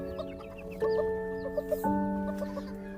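A red chicken clucks repeatedly up close, with short rhythmic clucks and a couple of longer drawn-out squawking notes, no talking.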